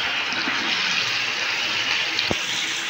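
Steady broadband rush of running water rinsing sauce off fish while cooking chilli chicken in a home kitchen, continuous and close, with a brief soft knock near the end.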